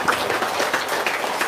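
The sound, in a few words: audience applause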